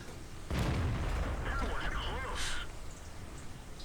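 A tank's main gun fires in an online tank battle game, one heavy, close boom followed by a long rumbling roll, with a voice talking over the aftermath.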